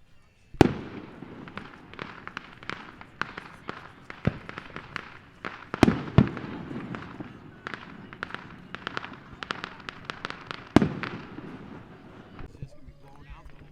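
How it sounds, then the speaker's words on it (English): Fireworks burst over a river, a quick run of sharp cracks and booms scattered across the stretch with several louder near blasts, while people talk in the background. "Fireworks all over the place."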